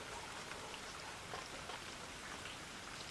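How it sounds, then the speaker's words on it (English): Heavy rain pouring down outdoors, a dense, continuous hiss of drops with faint individual spatters, steady and fairly soft throughout with no voices. "I don't know if you can pick up the rain, but it's quieting down a little now. It's really heavy."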